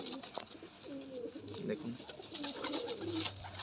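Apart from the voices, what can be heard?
red Lotan pigeon cooing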